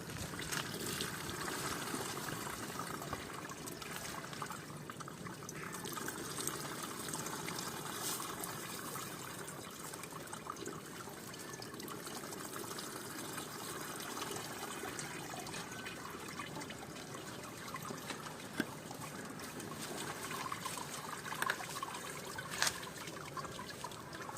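Steady liquid pouring and trickling into a container, roughly 4-5 litres, while wax is being melted down using a juicer, running continuously at moderate level with no talk.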